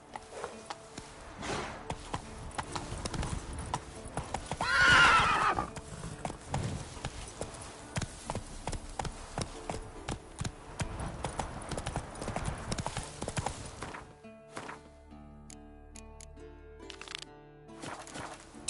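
Roach the horse trots in The Witcher 3, steady rhythmic clip-clop of hooves on ground at close range, continuous for most of the stretch before the game sound drops away near the end.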